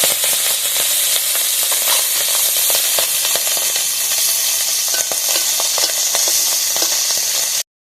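Small river mourala fish frying in hot oil in a kadai, a steady loud sizzle with crackling spatter running unbroken throughout, no talking.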